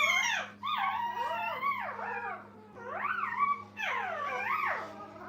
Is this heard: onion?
no